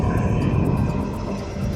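Jet aircraft sit on an airport ramp, filling the air with a loud, steady engine roar and a whining hum that stay constant throughout.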